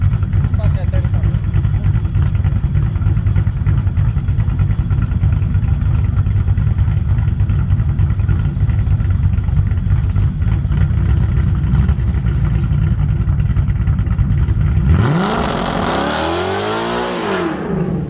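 A red drag car with a newly fitted two-step launch limiter and transbrake holds its engine at the limiter, a loud, continuous stuttering drone for about fifteen seconds before the revs change and fall away.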